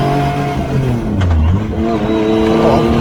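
A car's newly fitted engine runs with an uneven, stumbling misfire, a loud steady drone close by with a brief dip in pitch midway.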